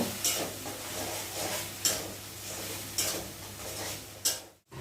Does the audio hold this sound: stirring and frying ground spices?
yes